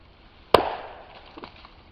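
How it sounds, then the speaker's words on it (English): A single sharp knock of wood against a tree rings out and decays, followed by a couple of faint, softer knocks in the distance. "going to try a tree knock for us"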